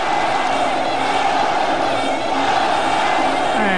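A crowd of fans cheers and shouts continuously at a Muay Thai fight between Saenchai and Nong-O in 2014, a loud, dense roar of voices that swells slightly throughout.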